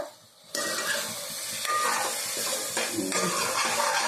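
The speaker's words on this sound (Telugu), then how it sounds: "ఈ విధంగా అయితే ఒకసారి తిప్పుకోవాలి" Mushroom curry stirred in a hot pan: after a brief quiet moment, a continuous loud sizzle with scraping spoon strokes, close up, with no speech.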